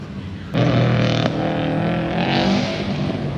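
Turbo modified class car running at an autocross event, a loud engine starting abruptly and holding a steady revving roar close by, with a faint rise and fall in pitch.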